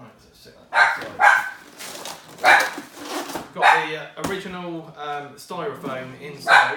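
A pet dog barking indoors, several sharp barks and yips at irregular intervals, loud and close, mixed with someone talking over them.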